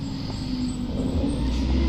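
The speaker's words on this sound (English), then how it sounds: "The garbage truck coming through." A garbage truck rumbles past nearby, its low engine drone steady and building slightly toward the end, alone without voices.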